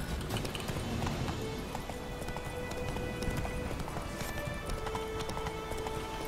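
Horse hooves galloping in The Witcher 3: Wild Hunt, a steady fast clip-clop throughout under game ambience and music at moderate loudness.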